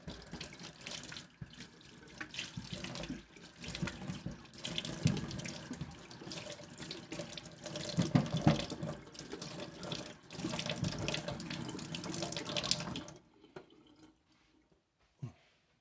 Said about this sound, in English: I think first I'll wash the carrots.